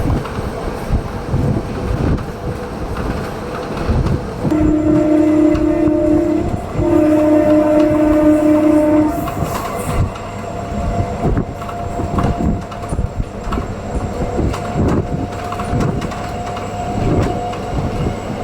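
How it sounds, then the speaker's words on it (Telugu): The Simhadri Express rolls through Velupur halt station without stopping, a loud, close and sustained rumble of wheels and carriages. Long horn blasts sound in the middle. "మన ట్రైన్ వచ్చేసండి వేలుపూర్ హాల్ట్ రైల్వే స్టేషన్ అయితే స్కిప్ చేస్తుందండి"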